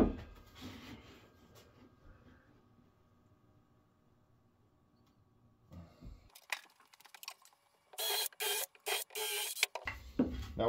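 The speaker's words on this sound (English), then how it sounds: "Gotta cut this piece down just a little bit." A cut is made through a piece while a Yost F9WW vise is being fitted, heard as several sharp, loud rasping bursts in quick succession after a quiet stretch of faint handling noise.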